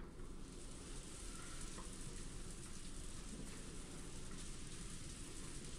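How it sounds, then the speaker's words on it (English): Heavy rain in the Umineko visual novel game, a steady dense hiss of downpour that continues without a break throughout, with no voices. "There's been pretty heavy rain here."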